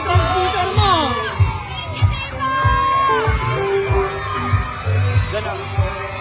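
A large crowd at a street parade in Ballesteros, Cagayan cheers, whoops and shouts in welcome, with children's yells rising over a steady roar of voices and rhythmic low drum or music beats running throughout.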